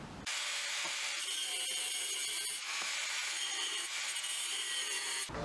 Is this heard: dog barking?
no